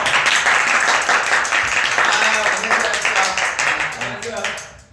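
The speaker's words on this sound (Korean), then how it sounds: "자 일단 박수 한번 칩시다" Steady applause from a crowd, loud and continuous, fading out toward the end.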